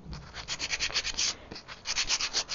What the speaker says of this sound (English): You really have to sand them down.